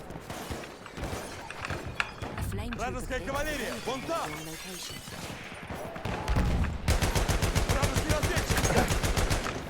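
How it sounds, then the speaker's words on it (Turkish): Battlefield 1 gunfire at Brusilov Keep, mixed sniper and automatic fire that becomes a dense rapid burst in the second half, with a gamer's voice talking over much of it. "Sağdan sniper sıkıyor."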